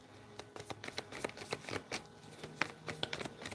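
Tarot cards being shuffled by hand, a quick run of soft riffling flicks and taps at close range, fairly quiet with no talking over it.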